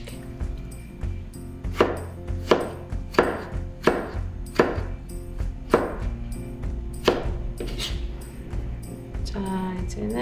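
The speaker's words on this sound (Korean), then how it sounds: "토마토도 반달로 썰어 주신 후에 한 번만 이렇게 해줄게." A knife slices a tomato into half-moons for a Spanish-style braised pork rib dish, giving about nine evenly spaced, crisp cuts over a low, steady background of music.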